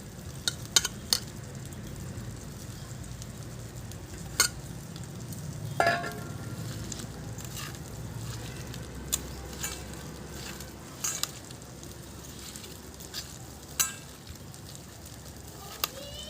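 Spinach leaves tossed into a hot frying pan for a Bengali patori dish, giving a steady sizzle and frying hiss with occasional clinks and stirring scrapes, close and continuous throughout.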